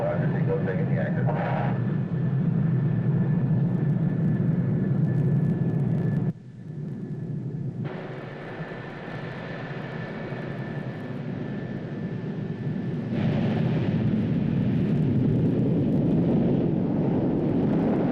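Steady engine roar of a military reconnaissance airplane on the runway during takeoff, loud and continuous with a brief dip, while radio chatter with the control tower is heard over it.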